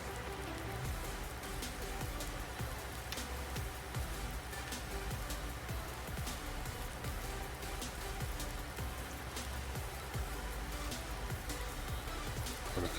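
Steady rain in the farming game Farming Simulator 19 hisses continuously at an even level, with dense patter throughout and no voices.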